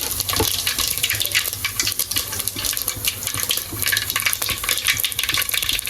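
Mustard seeds and cumin sizzle in hot oil as a Gujarati tempering for patra, giving a steady dense crackling hiss that runs loud and close throughout, with occasional small pops and no voices.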